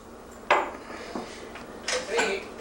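An old mug clinks and knocks against a hard surface in a few short ceramic taps and scrapes during an indoor house tour, with faint background voices.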